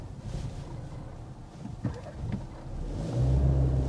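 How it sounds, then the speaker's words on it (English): Engine of a 2025 Volkswagen Jetta SE refiring under its auto start-stop system. After a quiet cabin moment comes a brief starter-like burst, then the engine settles into a low, steady idle hum that grows a little louder and holds. "We do have an auto start-stop system on board. That was the engagement of that."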